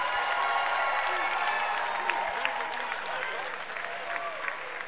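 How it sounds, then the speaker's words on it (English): Sustained applause for two boxers from a large crowd at an amphitheatre in West Palm Beach, Florida fills the space, a dense steady wash of clapping with faint cheers mixed in. "how about a nice round of applause for both fighters"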